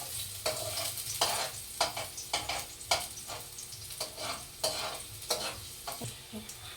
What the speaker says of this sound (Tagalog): Unahin natin yung bawang. Yan. Dahan-dahan lang kasi baka mapasa tayo.